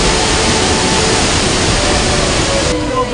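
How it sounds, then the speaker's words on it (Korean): Pagsanjan Falls, a 91-metre waterfall in the Philippine rainforest, roars as a loud, dense, continuous rush of falling water that fills the whole clip. "91m 높이에서 시원스레 떨어지는 폭포수에 감탄이 절로 나오는데"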